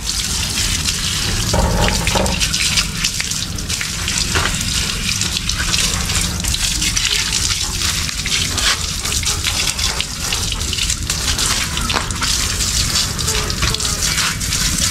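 Loud, steady water spray blasting a very muddy motorcycle during a wash, a continuous rushing gush with no pauses, close up.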